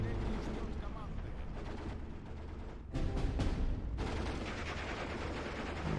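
Artillery fire hitting mortar positions in the Steel Division 2 video game, a continuous rumbling barrage of booms and blasts with a brief lull near the middle before the heavy fire resumes.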